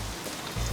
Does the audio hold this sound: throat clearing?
no